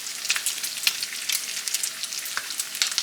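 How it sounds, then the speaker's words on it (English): Bacon sizzles and crackles steadily in a hot pan, with sharp pops scattered throughout and no voices. "here I'm just frying up some bacon"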